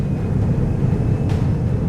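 Aircraft engine powering up in a flight simulator, a loud, steady low rumbling drone with a faint whine, continuous and unbroken, with no talk over it.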